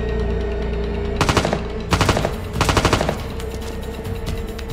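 Machine gun fire in a battle: several loud close bursts of rapid rattling shots in quick succession, spaced by brief pauses over a dense rumbling background, with no talking.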